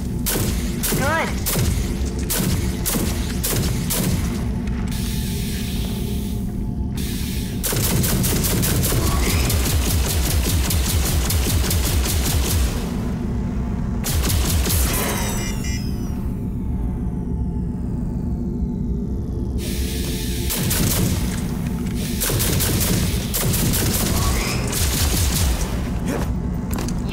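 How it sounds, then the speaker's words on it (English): Charged pulse cannon from the video game Rage 2 fired in sustained heavy bursts at simulated enemies, booming rapid shots broken by brief pauses, loud and close, with a low rumble and mechanical clatter between volleys. "Charged pulse cannons overdrive against the simulated enemies."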